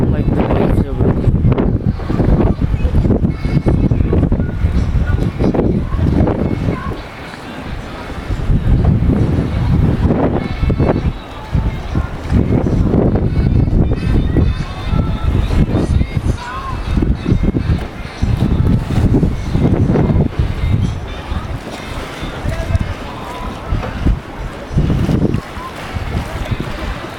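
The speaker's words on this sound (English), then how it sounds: "I'm at the lake and it's really windy" Strong gusts buffet the microphone at a lakeshore while waves churn and splash, a loud, roaring wash that rises and falls throughout with a brief lull partway.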